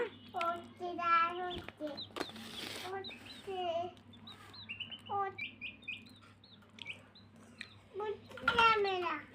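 A pet chicken perched on a child clucks in short, close bursts, broken by pauses, while the child and an adult talk nearby.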